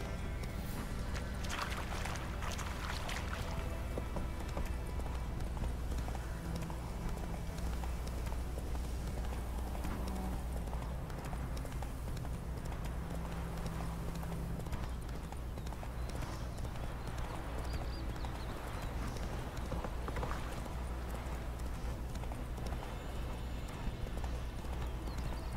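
Horse hooves clip-clop steadily in the Witcher 3: Wild Hunt video game, a continuous rhythmic trot mixed with game music and ambience, with an occasional whinny.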